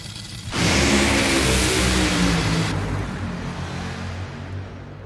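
Top Fuel dragsters launch and race down the drag strip at an Arizona national event, a loud, roaring engine blast that bursts in suddenly, holds for a couple of seconds, then fades into a lingering rumble.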